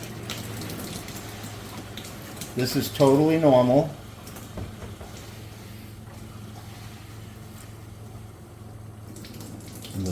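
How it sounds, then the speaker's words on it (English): A reverse osmosis water filter fills and flushes for the first time, giving a low steady hum with faint running water, while a voice speaks briefly over it. "the filters are filling and flushing for the first time"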